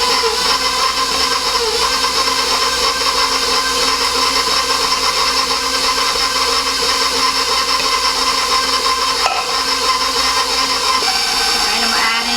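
Electric mixer running steadily in cake batter with eggs and buttermilk for a Neapolitan cream cake, a loud continuous whirring hum with no breaks.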